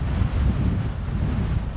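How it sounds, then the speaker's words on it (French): Rushing wind roars steadily while a pterodactyl flies over the map in The Beasts of 9500 video game, a loud low buffeting noise with no voices. "Oh le vent."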